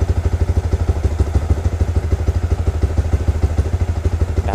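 A Juken 5 motorcycle engine idles steadily at close range with a rapid, even putter during starter and idle tuning, loud and alone, with a faint clatter near the end.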